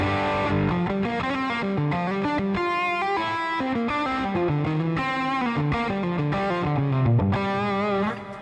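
Distorted electric guitar through a hot-rodded Super Tweed amp model on a Fractal modeler, warm and overdriven, playing chords and riffs steadily and loudly for several seconds before fading at the end.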